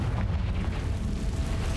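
A Confringo fire spell bursts in the Hogwarts Legacy video game inside a cave, a heavy rumbling explosion with a deep roar that stays loud across its short length.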